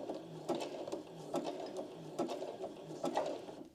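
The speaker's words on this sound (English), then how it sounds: "you're going to put your fabric underneath your presser foot, and you want the needle falling just along the inside edge" A domestic sewing machine stitches forward through fabric under the presser foot, its close, even mechanical whir rising and falling in a quick regular rhythm of short bursts, with no talk.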